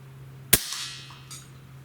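A single sharp crack from an Umarex Zelos air gun firing at a shotgun shell target, followed moments later by a fainter metallic impact, with a steady electrical hum underneath.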